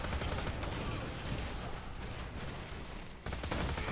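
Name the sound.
bandit SMG gunfire in the video game Borderlands 2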